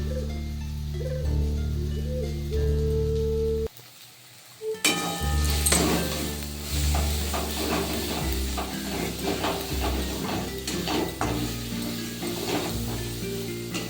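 Mutton is stir-fried in a pan for mutton kosha, a hissing sizzle mixed with repeated clatters and scrapes of a metal spatula, briefly quieting for a moment before the stirring resumes.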